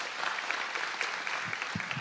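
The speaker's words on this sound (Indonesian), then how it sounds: "Silakan Sabil, tepuk tangan buat Sabil." Studio audience clapping for a guest invited up on an Indonesian talk show, a steady, moderately quiet patter of many hands lasting throughout, with a couple of low thumps near the end.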